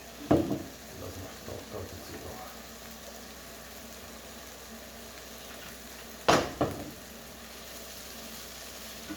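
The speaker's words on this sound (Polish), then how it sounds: "i sobie smażymy, smażymy" Soft, steady sizzling of vegetarian Bolognese ingredients frying in a pan, with two sharp clanks of utensils or cookware at the start and midway.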